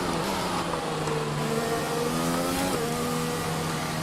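A Ferrari Formula 1 car engine in the F1 2020 racing game at the Spanish Grand Prix drones steadily at high revs, a sustained buzzing whine shifting in pitch as another car runs close behind.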